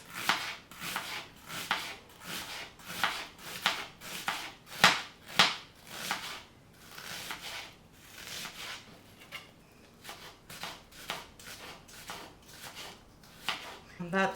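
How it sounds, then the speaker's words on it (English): Two good-sized onions sliced with a knife on a board, giving a rhythmic series of crisp cuts and scrapes, close and fairly loud, at an uneven steady pace. "So we're going to slice half and then slice 2 onions, good sized onions."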